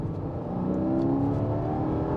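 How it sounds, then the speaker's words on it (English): A Porsche 718 Cayman GTS 4.0 engine revs high in Sport mode, a loud continuous racing-car howl that holds steady and climbs slightly. "it does sound like a race car engine"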